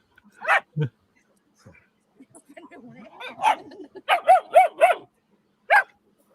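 A small, spunky dog gives several sharp yips and barks, a few isolated then a quick run of four, close and loud, with whimpery sounds between and brief bits of quiet background.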